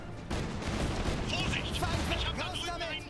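Heavy gunfire and explosive bursts in the mech strategy game Iron Harvest, a dense rumbling barrage of shots and blasts, with a voice talking over the battle noise.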